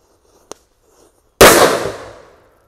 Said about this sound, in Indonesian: Dan penutupnya mercon disco happy flower lap door. Kita nyalakan 3 sekaligus.